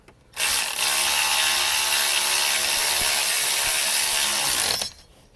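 A hand ratchet clicks rapidly and continuously for about four and a half seconds, loud and close, while tightening the oil pump bolts on a Ford Fiesta 1.0 EcoBoost engine in a workshop.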